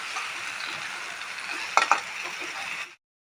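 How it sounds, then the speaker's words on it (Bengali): Chunks of gathi kochu (taro) being stirred and tossed with spices in a pan, a steady close sizzle with a couple of brief scraping clinks near the end before it cuts off. "এখন কচুর সঙ্গে মশলাগুলো ভালো করে মিশিয়ে ঢাকা দিয়ে রাখবো।"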